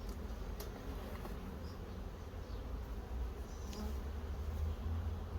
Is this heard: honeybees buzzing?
yes